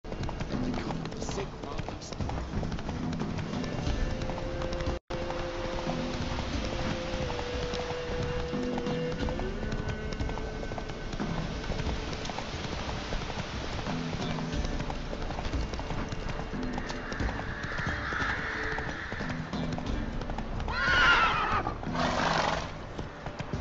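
Roach, the horse in The Witcher 3 game, gallops with a steady rolling clip-clop over ambient music, then lets out loud neighs and snorts near the end, close and prominent above the hoofbeats.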